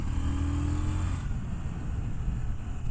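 A CFMOTO 800NK or KTM Duke 790 motorcycle on the move gives a faint engine drone that holds steady, then fades into softer rushing road and wind noise.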